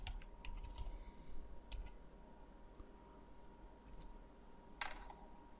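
Someone typing on a computer keyboard: a few faint, scattered key clicks over a low background hum, quiet and close, with no talking.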